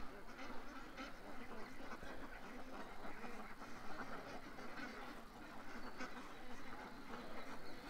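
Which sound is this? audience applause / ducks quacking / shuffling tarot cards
ducks quacking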